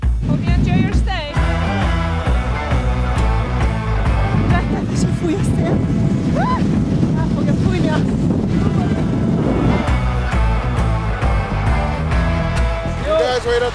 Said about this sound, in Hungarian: Csak kicsit fúj a szél